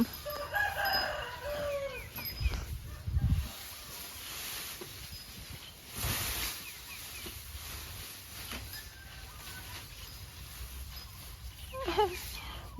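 Chickens cluck and crow while a baby elephant chases them around a village yard, with loud bursts of squawking among quieter stretches, some thuds, and faint background noise.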